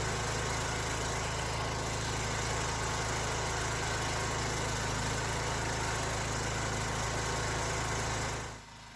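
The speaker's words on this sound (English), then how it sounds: "I have a Hyundai HHY 10000 FE3 ATS generator that runs on gasoline." A Hyundai HHY 10000 FE3 ATS gasoline generator, 7.5 kW rated, runs at a steady, even drone close by with no talk, then cuts off abruptly in the final half second.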